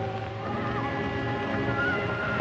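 A horse whinnies loudly in a 1945 western film, with a long, wavering neigh over light hoof clip-clop and background rumble, heard alone without speech.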